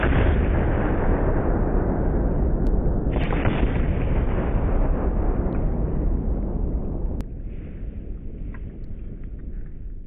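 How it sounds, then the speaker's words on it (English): An air rifle pellet sets off a Firebird exploding target, a sustained loud booming roar that rumbles on for several seconds, then drops to a fainter lingering echo and crackle. "I'll leave you guys with a Firebird target explosion."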